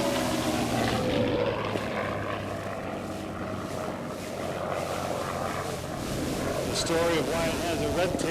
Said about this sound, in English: An early version of the P-51 known as a Razorback.